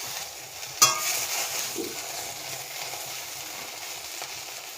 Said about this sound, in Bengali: লতিগুলো বেশ ভাজা ভাজা হয়েই এসছে, আর একটুখানি নাড়বো।